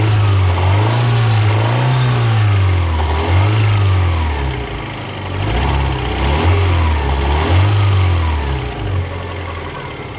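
Car engine with an upgraded fuel system (new fuel pump, pressure regulator and return line) revving up and down in loud, repeated swells close by, then dropping off as it stalls; no talking.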